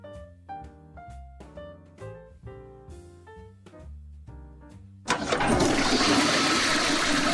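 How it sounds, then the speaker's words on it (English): An old, grimy toilet with clogged plumbing flushes in one loud rush of water that starts abruptly and keeps roaring to the end, after a stretch of tonal music with no talking. "That one sounded like he was flushing something"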